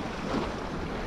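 Sea waves washing close to a small fishing boat, a steady rushing wash with wind noise over about a second; no talk.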